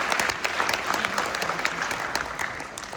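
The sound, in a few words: audience applause at a film screening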